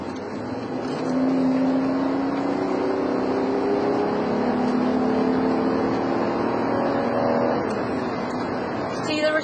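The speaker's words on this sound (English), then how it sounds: "So throttle response here, I'm gonna accelerate a little bit" A 2011 BMW X6 with a turbocharged engine accelerates from around 60 mph in drive, its steady engine drone rising gradually in pitch and holding for several seconds from inside the car.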